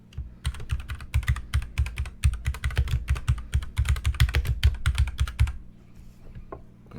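Rapid, uneven one-handed typing on a computer keyboard, with sharp close keystrokes in a dense run for about five seconds before tapering to a few isolated taps and quiet.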